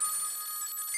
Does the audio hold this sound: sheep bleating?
no